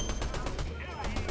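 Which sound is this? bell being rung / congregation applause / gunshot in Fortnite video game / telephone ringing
gunshot in Fortnite video game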